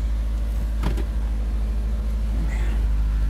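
A Peugeot 205 CTi with a new starter motor idles, a steady low engine hum running throughout with a brief clunk partway through.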